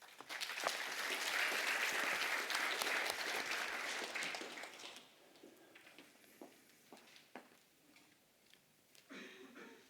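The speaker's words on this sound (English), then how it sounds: "Give him a round of applause," Audience applause welcoming a speaker onto a stage at a talk on statistical data models, loud and dense for about five seconds, then fading to scattered claps and light room noise.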